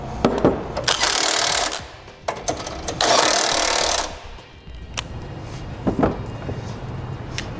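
Tightening nuts on a Roadmaster Direct-Connect base plate kit on a 2005 Jeep, heard as loud, sustained bursts of rapid power-tool rattling broken by short clanks and pauses.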